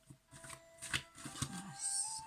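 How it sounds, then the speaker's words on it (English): Tarot cards being shuffled by hand, a quick run of soft papery riffles and slaps that is close and quiet, with no talking over it. "Let's shuffle the cards and see what we have going on for you this month"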